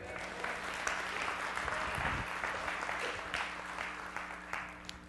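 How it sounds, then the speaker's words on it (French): Steady applause from a church congregation, a dense wash of clapping that holds for several seconds at an even, fairly loud level. "On l'applaudit ensemble."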